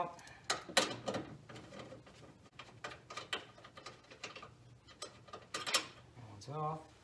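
Top radiator bolt being loosened and backed out with a hand tool during a radiator replacement, a string of close metallic clicks and ratcheting taps with brief scraping, plus a short voiced sound near the end.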